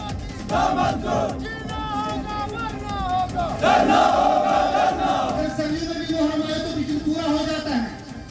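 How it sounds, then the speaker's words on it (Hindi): A large street crowd of protesters in Gilgit-Baltistan chants loud slogans against the government over rising prices, many voices rising and falling together in a dense, continuous roar. "गिलगित बाल्टिस्तान के लोग पाकिस्तान के खिलाफ प्रदर्शन कर रहे हैं और सरकार के खिलाफ नारेबाजी कर रहे हैं"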